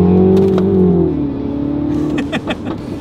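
A MINI with an aftermarket exhaust revs up and settles, its engine note droning loud and close, then trails off into a few short pops and crackles.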